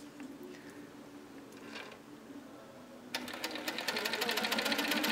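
A domestic sewing machine stitching free-motion quilting in a spiral pattern runs steadily and softly at first, then speeds up into a louder, rapid needle rattle for the final two seconds.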